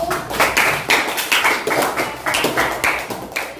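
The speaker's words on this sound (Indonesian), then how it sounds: "berikan aplaus untuk kelompok 1" A class claps for a student group, sharp rhythmic bursts of hand claps repeating in quick regular pulses, loud and close throughout.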